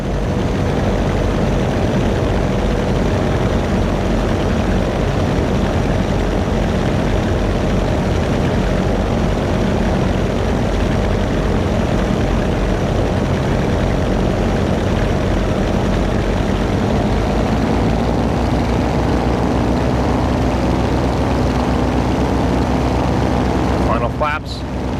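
A floatplane's engine drones loud and steady through the whole stretch of a flight in the Prepar3d simulator over New York City, a constant low propeller hum, with talk heard over it.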